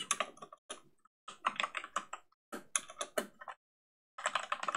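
Quick bursts of typing on a computer keyboard, close and clear, in several short runs separated by brief pauses, with no voices.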